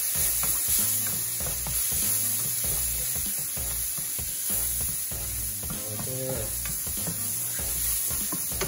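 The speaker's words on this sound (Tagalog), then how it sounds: "gigisahin na po natin yung ating broccoli, garlic, and butter" Broccoli, garlic and butter sautéing in a pan, giving a steady close sizzle with stirring and scraping that carries on without a break and with no talk.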